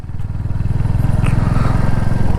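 A motorcycle ridden along a village road in Kalikapur, Birbhum, its engine droning steadily and close with a low pulsing rumble throughout, no talk over it.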